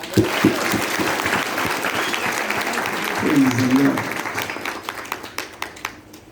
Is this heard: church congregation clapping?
yes